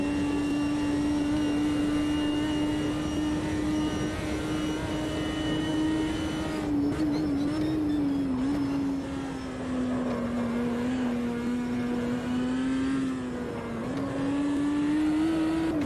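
A race car engine drones steadily through a lap in the Automobilista 2 racing game, loud and continuous, with brief dips in pitch under braking and no talking.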